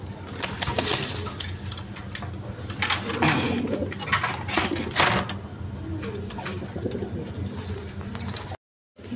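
A pair of fantail pigeons coo at close range in a busy pigeon market, their soft repeated calls set against a steady bed of crowd noise and faint background chatter.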